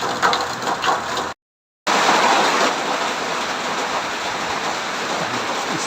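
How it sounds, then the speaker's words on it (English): Heavy rain pours down in a dense, loud, steady roar, broken by a brief silent gap near the start before resuming unchanged. "It's raining so much."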